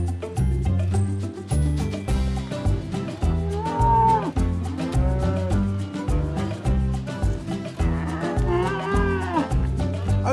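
Cattle mooing on a farm as they are herded into a barn, heard over a steady music bed with rhythmic low notes; several drawn-out, rising and falling moos stand out at close range.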